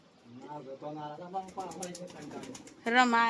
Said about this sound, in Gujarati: અહીંયા દેખો કબૂતર છે